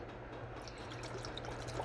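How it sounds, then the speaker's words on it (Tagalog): Water pours into a cooking pot for chicken broth, a soft, steady splashing trickle that is faint and close, with no voices. "Lagyan natin ng tubig."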